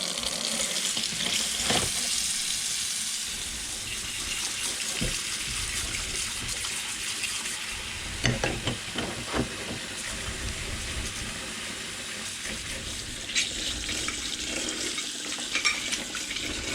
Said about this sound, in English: plenty of washing up detergent and hot water.